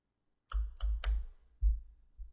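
A few quick keystrokes on a computer keyboard enter a number into an Excel spreadsheet, three fast taps then two more, soft and close in an otherwise quiet room.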